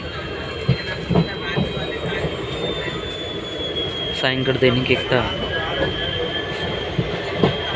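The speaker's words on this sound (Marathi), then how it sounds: "आपण बघू शकतात रेल्वे प्रवास हा आपला सुरू आहे" A train rumbles along the rails with steady clattering and a high squeal running throughout, while a person talks over the noise.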